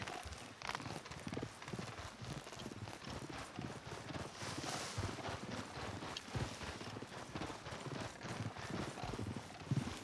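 Horse hooves clip-clop steadily in Red Dead Redemption 2, a continuous rhythmic trotting patter over game ambience, fairly quiet and even throughout.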